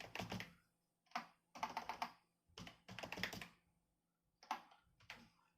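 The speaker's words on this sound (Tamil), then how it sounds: "என் பேரே எனக்கு ஒழுங்காக டைப் பண்ண வர மாட்டேது." Keys clatter on a computer keyboard as a name is typed into an HTML table form, coming in close, crisp bursts of rapid keystrokes separated by short pauses, with no talking.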